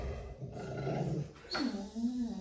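A dog guarding its food bowl inside a crate gives a low, sustained growl, close and steady, rising into a brief sharper snarl near the end.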